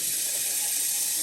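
Water pouring steadily into a cooking pot for rice noodles, a continuous close splashing hiss that runs unbroken from start to finish with no talk over it.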